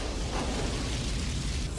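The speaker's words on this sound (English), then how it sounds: "What's up with all the explosions?" Explosions from the 1996 film The Phantom roar as a dense, continuous rumbling blast of noise lasting under two seconds, loud and without voices.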